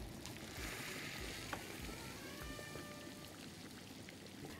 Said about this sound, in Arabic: هحط بقى ميه مغليه اغطي بيها ايه الرز